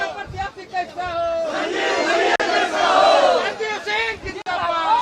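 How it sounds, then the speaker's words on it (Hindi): Large crowd of election supporters at a mayoral race rally in Dhanbad, chanting and shouting together loudly and continuously up close, with rising and falling waves of voices. "समर्थकों की भीड़ में न सिर्फ युवा बल्कि महिलाएं हर कोई पहुंचा है"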